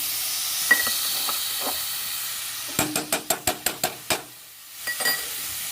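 Two tablespoons of butter go into a warming pot, giving a soft steady hiss of melting and sizzling, then a quick run of about eight light taps and clinks from a utensil against the pot, close and without talk.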